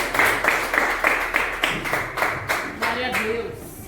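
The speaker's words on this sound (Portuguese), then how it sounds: "Receba os servos do Senhor com as palmas para o Senhor Jesus." A church congregation claps in a steady, rhythmic beat of sharp, even hand claps at a worship service, with a low voice briefly audible beneath the claps.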